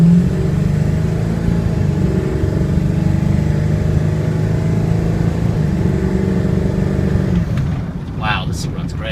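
A 2001 Ford F250 diesel truck drives along with a steady low engine drone and road rumble heard from inside the cab, the engine easing off near the end.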